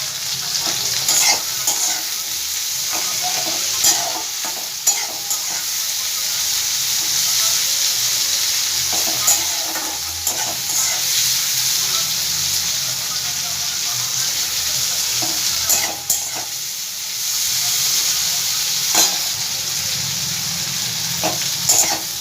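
Onion and capsicum fry steadily in a pan, a continuous loud sizzle broken by occasional stirring scrapes and clatters, with no talking.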